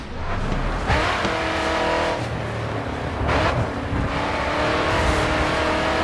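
A race car engine drones loud and unbroken in the GRID 2 racing game, pitch swelling and dipping with throttle changes, with faint tire scrubbing as the car loses grip, and no voices.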